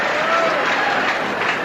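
Crowd at the 1983 US Open tennis final, Connors versus Lendl, applauding and cheering after a point, a loud, continuous roar of clapping and voices with faint whistling tones on top.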